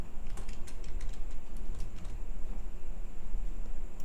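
Quick light taps on a computer keyboard while tags are entered into a web page design, a few brief clusters of keystrokes over a steady background hum.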